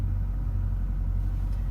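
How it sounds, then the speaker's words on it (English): A 2017 BMW X5 M idles close by, its engine and exhaust giving a steady, deep low rumble that stays even for a moment without other sounds. "You can hear that mean exhaust on it already."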